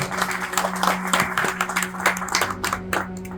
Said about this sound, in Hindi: माताओं बहनों का सब जोरदार ताली से इसका अभिनंदन करें